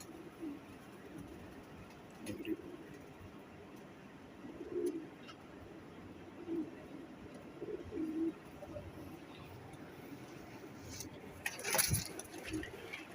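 Pigeons in a loft give low, soft cooing calls in several separate bursts over a steady background hum, with a sharper bird noise near the end.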